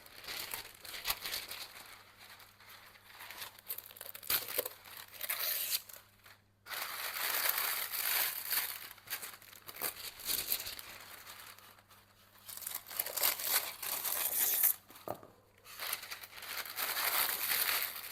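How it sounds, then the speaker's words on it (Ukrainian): Kitchen foil and parchment paper are handled while preparing beef tongue, giving close, continuous crinkling and rustling with brief quieter gaps. "в фольгу кладемо пергамент."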